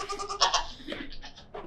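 Goats bleat inside a barn, several wavering cries in quick succession at moderate volume, some overlapping, with no speech.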